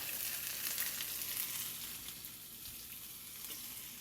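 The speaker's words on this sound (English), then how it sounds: "So here goes onion" Onion frying in a hot pan with shahi jeera for a paneer do pyaza, a steady loud sizzle hissing close up with no talk.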